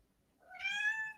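A pet house cat gives a single rising, drawn-out meow, clear and fairly close, standing alone without any talk over it.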